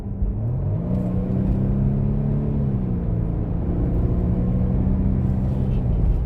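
A 2020 Mercedes GLC 300 accelerates hard from inside the cabin, a steady low engine drone rising in pitch, dipping as it shifts, then climbing again, with no talking.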